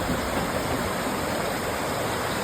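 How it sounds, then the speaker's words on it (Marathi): Water rushes down a mountainside in a steady, unbroken roar, like a stream tumbling downhill, with no voices. "डोंगरावरून वाहत पाणी खाली येत आहे"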